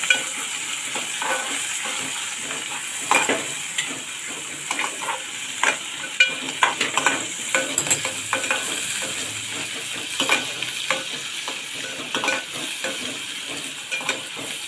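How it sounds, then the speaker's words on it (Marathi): Onion and curry leaves fry in hot oil for a baby shark fish curry, giving a steady sizzle with frequent crackles and the clicks of stirring with a utensil in the pan, close and without talk. "कांदा चांगला आधी तेलामध्ये फ्राय होऊ देऊया भाजू देऊया"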